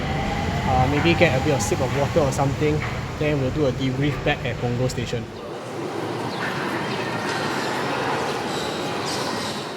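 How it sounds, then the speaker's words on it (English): An LRT train pulls out of Punggol station as someone talks nearby, then a steady rumbling whoosh takes over once his voice stops and holds on alone. "So that was the train that I just came on, now it's leaving."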